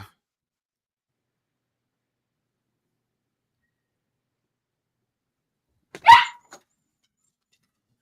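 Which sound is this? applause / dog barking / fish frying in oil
dog barking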